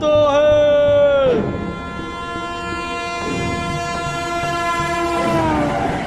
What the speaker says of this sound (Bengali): সঙ্গে সঙ্গে চলন্ত ট্রেনের ফোঁস ফোঁস হড়হড় শব্দ।